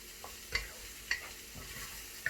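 Onions frying in a pan with two bay leaves give a soft, steady sizzle, punctuated every half-second or so by light clicks of a spoon stirring, fairly quiet and with no talk.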